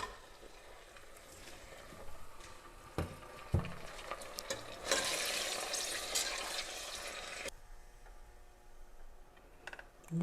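Onions browned in a pan with two tomatoes added for aloo gosht, sizzling steadily with stirring clatter and occasional sharp utensil taps, frying louder through the middle then settling to a quieter hiss.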